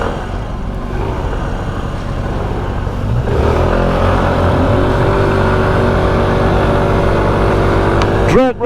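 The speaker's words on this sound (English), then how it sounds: "Drag race! Come on, Donnie!" SYM 125cc motorcycles drag racing on a road, engines droning loud and close, then climbing in pitch as they accelerate hard, with a brief sharp squeal near the end.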